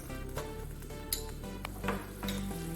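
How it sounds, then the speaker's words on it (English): Butter melts and sizzles in a hot soup pot on the stove, a soft, steady crackle with occasional light clinks and scrapes of utensils, no voices. "we're gonna turn our heat back on and we're gonna go in with our butter"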